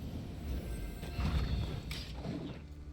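Roach the horse neighs in the video game Gwent, a close whinny with snorting over a soft background hum.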